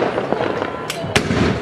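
New Year's Eve fireworks and firecrackers going off outdoors, with two sharp bangs standing out over a steady crackling background while people talk.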